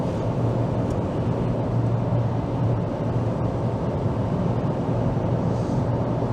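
Inside a Ford Mondeo MkIII 1.8 cruising at 130 km/h and about 3,500 RPM, a steady, moderate low rumble of engine, road and wind noise holds constant throughout.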